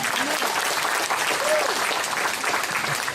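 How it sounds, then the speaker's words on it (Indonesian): A church crowd at a revival service claps steadily in sustained applause, dense and even throughout, with faint voices mixed in. "Ini baru tepuk tangan untuk Tuhan Yesus."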